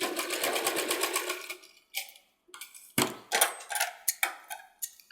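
A domestic sewing machine stitches a bell sleeve in a steady, fast whirring run, then breaks into short stop-start bursts of stitching, loud and close, with no voices.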